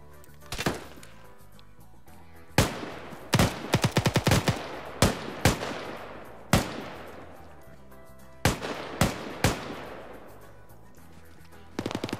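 Loud, sharp gunshots in a competitive shooter video game match, arriving as single cracks and quick rapid-fire bursts separated by short lulls, close and punchy.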